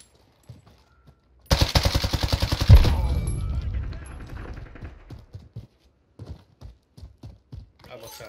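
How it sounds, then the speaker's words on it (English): A loud burst of rapid automatic gunfire from the Modern Warfare shooter rattles for about a second and a half and fades into a decaying tail, then scattered softer shots and footsteps follow while players talk. "Man, gunshots are not as good as I remember them being."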